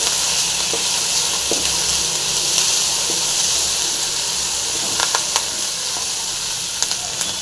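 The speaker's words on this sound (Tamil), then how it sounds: "நல்லா ஃப்ரை ஆகட்டும்" Curry leaves, tomato, ginger and coriander fry in a pan with a steady, close sizzling hiss, dotted with a few faint crackles and light scrapes throughout.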